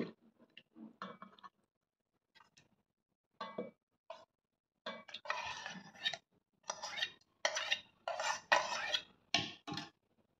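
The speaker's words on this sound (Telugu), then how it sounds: "ఇది చక్కగా ఈ మిక్సీ జార్లో వేసుకోవాలి." Soft scraping and clinking of a spoon against a mixer jar as fresh cream is spooned in, in short bursts that grow busier and louder toward the end, with no talking.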